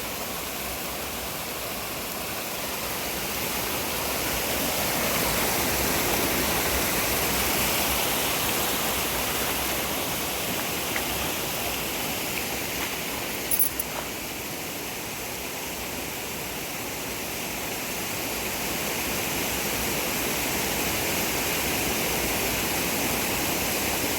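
Loud, continuous rush of a flooded village stream, a steady broadband roar that swells slightly and holds throughout.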